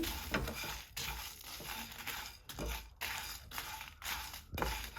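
Dry whole spices (cinnamon, cardamom, cloves) rattle and scrape in a pan as they are dry-roasted and stirred, a steady scratchy rustle with brief pauses between strokes.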